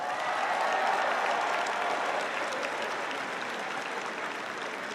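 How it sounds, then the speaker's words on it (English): Commencement audience applauding the name readers, a dense, loud wash of clapping from a large crowd that holds steady and fades only slightly over a few seconds, with no speech. "let's give our name readers, Jacob Hesse and Chris Riddle, a big round of applause"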